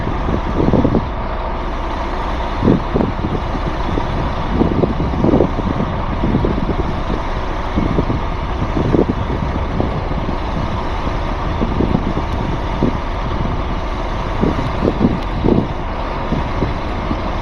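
A delivery truck's engine drones steadily while driving on a road, loud and close from inside the cab, with wind noise and occasional bumps and rattles.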